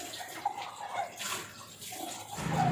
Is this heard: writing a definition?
no